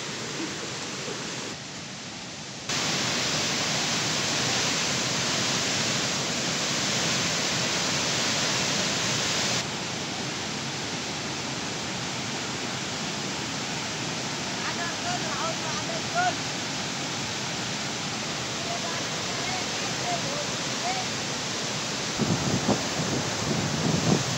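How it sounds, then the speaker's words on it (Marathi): Heavy rain pours at Randha Falls, a steady loud broadband wash that holds throughout with a brief dip near the start, no speech over it. "आता इथं खूप पाऊस पडत आहे"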